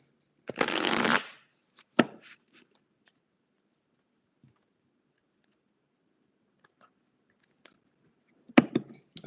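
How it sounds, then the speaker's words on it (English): Tarot cards shuffled in one long riffling burst near the start, followed by a few sharp taps and small handling clicks, then another brief shuffle at the end; close and otherwise quiet. "So I'm going to shuffle."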